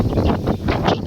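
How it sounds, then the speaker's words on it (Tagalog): Strong wind gusts outdoors on a street, buffeting the microphone with a loud, low roaring rumble that swells and eases over a brief moment. "Lakas ng hangin."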